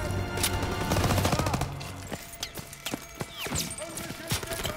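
Scattered gunshots in the Call of Duty WW2 campaign, a mix of crisp nearby reports and duller distant shots in uneven rhythm, with battlefield noise and brief voices underneath.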